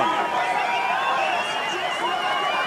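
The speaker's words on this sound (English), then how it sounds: "Now you can hear the crowd are deafening in the background." A large crowd of French fans roars and chatters at a kayak slalom World Cup final in Pau, France, a dense continuous wall of cheering and voices heard from the course.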